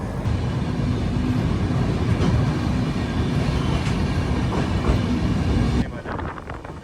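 An AC express train pulls out of Hubli station, heard from on board as a loud, steady rumble of wheels and carriage noise. The sound drops suddenly near the end.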